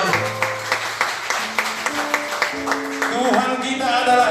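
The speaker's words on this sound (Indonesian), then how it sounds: "Yang sini berikan tepuk tangan yang meriah bagi Tuhan" Church congregation at a Sunday service clapping in a steady rhythmic beat, about two claps per second, with a held musical tone and singing-like voices rising toward the end.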